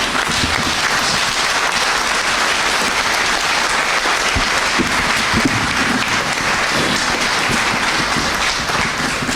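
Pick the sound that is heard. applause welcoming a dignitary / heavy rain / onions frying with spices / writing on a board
applause welcoming a dignitary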